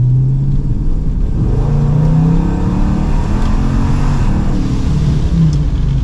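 A 1100 hp Dodge Charger Scat Pack accelerates hard on a straight, its engine roaring loud and close in a steady, sustained rumble that rises through the gears with no talk over it.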